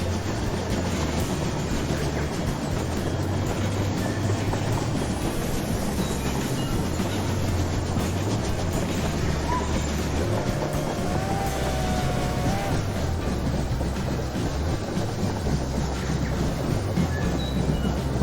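A model train rolls past on a track layout in the Rolling Line train set simulator, a steady continuous rumble with a brief squealing tone partway through, no talking.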